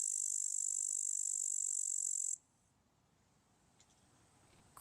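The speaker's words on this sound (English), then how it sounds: "I'm definitely hearing something like this. Yeah, it's just a big cricket then." A big cricket chirps in a loud, continuous high trill for about two seconds, then stops abruptly and leaves near silence with a couple of faint ticks.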